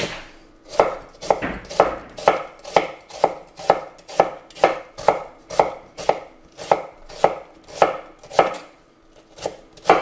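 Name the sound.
knife chopping onions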